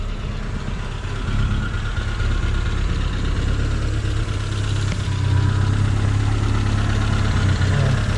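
A Nissan S12 200SX with an air-mixture problem idles roughly up close, its steady low engine rumble rising and falling slightly over several seconds, with no talking.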